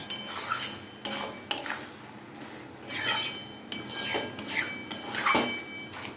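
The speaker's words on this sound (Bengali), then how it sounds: "এবার এটা শুধু মিক্স করব আর নামাবো" A metal utensil scrapes and clinks against a cooking pan as food is stirred, with repeated close scraping strokes and occasional sharp taps.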